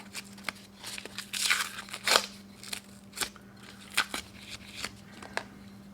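Masking tape is peeled off a drawknife handle in a workshop, making a series of short crackling rips and crinkles. The strokes are scattered and uneven, with a few louder tugs standing out.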